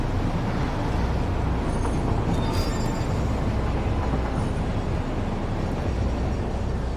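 A train in the factory-building video game Satisfactory rolls along, giving a steady, dense, loud rumble of wheels and rails with a faint squeal partway through. It is continuous throughout, with no talking.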